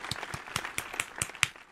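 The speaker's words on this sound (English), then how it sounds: "Another round of applause." Sparse, evenly spaced claps, about five per second, fairly faint, from what sounds like a small group rather than a crowd.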